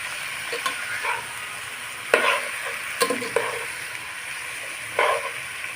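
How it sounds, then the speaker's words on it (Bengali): Turmeric and coriander powder sizzle in a pan for a fish-head and ash gourd curry, a low constant hiss broken by a few distinct scraping stirs and spoon taps at irregular intervals, near and uninterrupted by speech. "দিয়ে আমি মেরে চেড়ে ভালোভাবে মিশিয়ে নেব"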